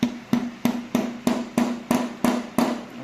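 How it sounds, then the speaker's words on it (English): Nine evenly spaced, sharp hammer taps seat a carburetor needle seat on a Yamaha RX 135 carburetor, each strike close and clean with a short ringing tail and no talk. "Now I'm going to put this here and gently tap it with a hammer"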